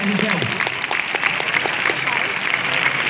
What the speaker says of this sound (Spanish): Un fuerte aplauso, Bailuzón.